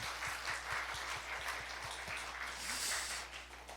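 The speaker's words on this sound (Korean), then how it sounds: "우리 여기 계신 아버지들께 박수 한번 좀 드립시다." Applause from a church congregation during a Sunday service, steady and fairly dense, with mixed claps running throughout and no pause, heard at moderate distance in a reverberant hall.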